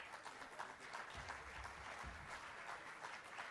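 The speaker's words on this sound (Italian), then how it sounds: "Accogliamo il Cardinale con un applauso." A crowd applauds in welcome for Cardinal Peter Turkson at a Caritas diocesan conference, a dense steady wash of clapping from a large audience, held at an even level throughout.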